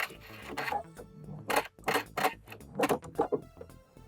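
A sewing machine stitches a seam on a bra-to-nightie conversion, with short, quiet, close bursts of mechanical whirring separated by brief pauses.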